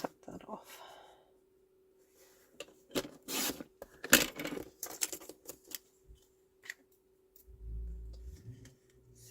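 Scissors snip through decorative Stampin' Up and Graphic 45 paper during album making, a close cluster of crisp cutting bursts amid quiet handling sounds, ending with a low thump.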